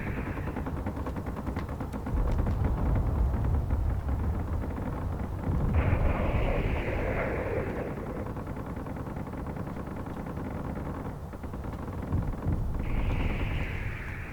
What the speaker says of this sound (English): Oh great, Gatling guns.